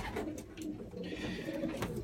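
Soft, low cooing from a hen pigeon, repeated in a short throaty phrase, close by, with a faint hiss of background noise.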